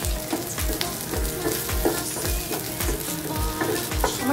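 Chicken balls fry in hot oil in a pan, with a loud, continuous close sizzle and repeated low stirring knocks at a steady pace.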